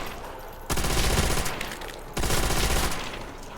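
Rapid automatic gunfire from a Call of Duty zombies match on Nacht der Untoten, two loud sustained bursts of shooting separated by a brief lull.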